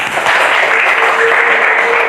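A class applauds together in an Islamic religious education lesson, continuous dense clapping from many hands, fairly loud and even throughout, with no talk over it.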